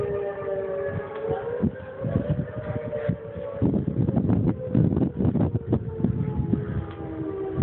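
Civil defense tornado warning siren wailing steadily at a distance through the whole stretch, its tone rising and falling slightly, with wind buffeting the microphone and bursts of rumbling noise underneath.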